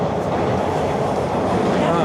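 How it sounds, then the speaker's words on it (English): Toronto TTC subway train riding late at night, a loud steady rumble of wheels and car noise filling the whole stretch, with faint voices of passengers under it. "12:30, late night subway ride."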